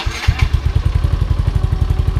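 A Honda Mio i 125 scooter motorcycle engine, bored up to 160cc with an MT8 pipe, fires up and settles into a loud, steady, rapid idle thump, close up with no voices.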